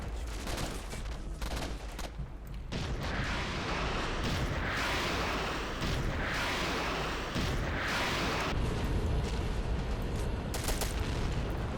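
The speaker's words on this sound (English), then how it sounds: "with the arrival of more German heavy tanks comes the arrival of Russian heavy artillery" Russian heavy artillery fire in the Red Rising mod of a war video game, a dense barrage of booming blasts and rolling rumble that swells and holds loud across the clip.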